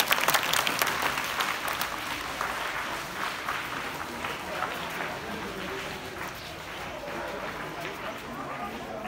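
A crowd claps at the inauguration of new school rooms in Jangiana village, Punjab, producing sustained applause that is strongest at the start and continues steadily, with people talking over it.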